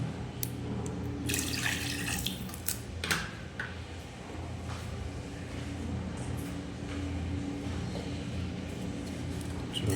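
Water runs into a pan of chicken gravy made with tomato, a steady splashing pour that carries on for the whole stretch, with a few brighter gushes early and no talk over it.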